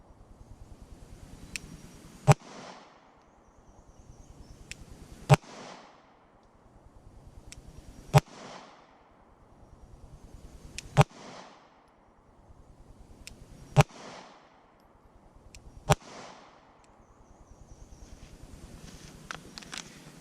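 Six sharp pistol shots from a Sig, Glock or Beretta fired at 3 yards, evenly spaced about three seconds apart, loud and close with brief echo tails and quiet handling noise between.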